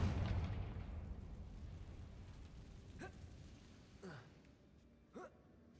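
A Confringo fire spell explodes in Hogwarts Legacy with a faint, low rumbling blast that slowly dies away. Three short rising whoosh-like tones follow at intervals over the fading tail.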